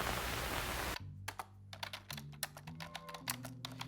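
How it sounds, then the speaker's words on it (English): Close computer keyboard typing, a quick irregular patter of key clicks that begins after a burst of noise and continues under a low steady hum. "I'm sure just typing away at nothing will be just as good."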